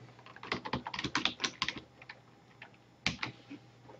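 Computer keyboard typing to enter a tab name in a page editor, several quick bursts of clicky keystrokes, close and clear, a pause, then a short final burst.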